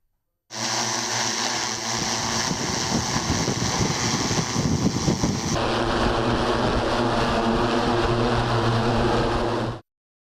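An agricultural drone flies over a farm field in Punjab, giving a steady, loud propeller buzz with wind rush that shifts in tone midway and then stops abruptly.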